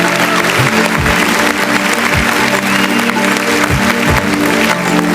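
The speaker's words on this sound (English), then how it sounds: "A big round of applause for Shruti Wadhwan." Loud, sustained applause from a big audience at a beauty pageant, continuous clapping filling the space with a few low thumps underneath.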